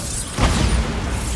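In Hogwarts Legacy, a Bombarda explosion spell goes off with a deep, muffled boom that swells and rumbles briefly before settling back into steady game ambience.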